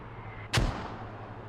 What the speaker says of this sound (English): You can see Resilience and Blarg hear that gunfire.